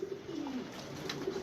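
Pigeons coo softly in a low, rolling murmur after pecking at grit, the cooing close by and continuous under faint background noise.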